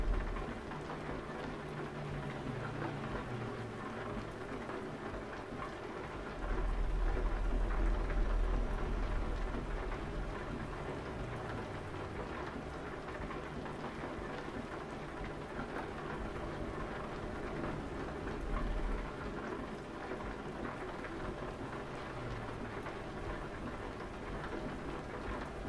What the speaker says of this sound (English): The rain is very loud in this cabin.